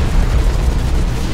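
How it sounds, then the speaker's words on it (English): A big, loud explosion booms and rumbles in the mech combat video game Hawken, a dense low roar filling the whole short moment without any talk. "there kind of are big explosions, like that's a pretty big explosion"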